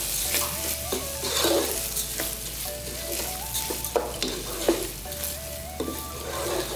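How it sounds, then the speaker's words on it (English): Rice and red beans with a pack of Sazon seasoning cook in a pot over high heat. A steady sizzle runs under scraping stirs and occasional spoon knocks, with no one talking. "So let's go ahead and stir that together."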